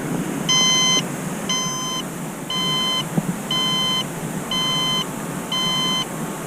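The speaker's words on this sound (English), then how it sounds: "Waiting for the beeps." Six evenly spaced electronic beeps from a rocket altimeter, each about half a second long, sounding clearly over low background noise.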